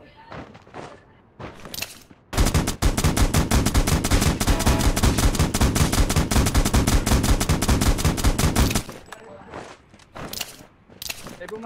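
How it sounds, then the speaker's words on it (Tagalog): Gunfire in the mobile battle royale game Rules of Survival: a few scattered shots, then a long loud burst of rapid automatic fire lasting about six seconds, followed by more isolated shots, with players talking around it. "May bumabaril kanina."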